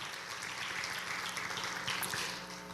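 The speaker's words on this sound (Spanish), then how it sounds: "Vamos a darle un aplauso al Señor" A church congregation applauds in a soft, distant, even patter of many hands clapping, steady throughout with a faint hum beneath and no talk.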